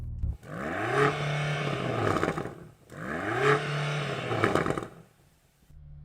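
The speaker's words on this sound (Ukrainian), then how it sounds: "Я чую лише обмежувач обертів." A car engine revs hard twice, bouncing against the rev limiter with a choppy, stuttering note each time, then drops back to idle between bursts.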